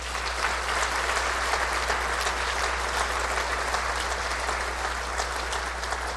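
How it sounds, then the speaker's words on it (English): A seated audience at a sports hall of fame induction ceremony applauds students and honorees, a steady, full round of clapping that holds evenly throughout, heard somewhat from a distance over a low hum. "Let's give them another round of applause"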